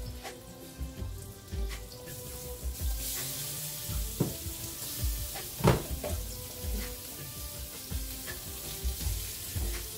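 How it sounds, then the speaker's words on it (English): Butter melts and sizzles softly in an already hot pan, a quiet continuous crackle with a few brief clinks and bumps, no talking. "Put it in our pan. It is melting because it's already hot."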